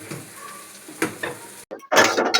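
Onions and garlic frying in oil in a pan while making dhaba-style kadhi pakora, with soft sizzling, clinks of utensils and stirring scrapes, a brief pause, then louder close sizzle and clatter.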